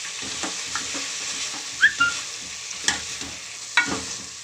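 Ginger-garlic paste sizzles in hot oil while making a fenugreek-leaf mutton curry, a steady bright hiss broken by a few sharp spatula clinks and scrapes against the pan.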